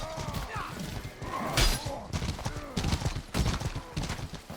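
Horse hooves clatter in quick, uneven clip-clop beats during a medieval melee fight in the game Mordhau, loud and close, with thuds and crashes mixed in and brief distant voices underneath.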